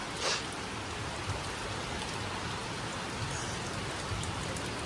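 Steady, heavy rainfall hisses evenly throughout, a dense wash of drops with no pauses and no voices.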